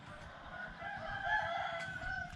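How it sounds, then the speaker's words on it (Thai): A rooster crows in a long drawn-out call, steady and fairly close, on a mountaintop at Doi Pui, with no talking. "นอนฟังเสียงไก่เสียงนกนะครับ"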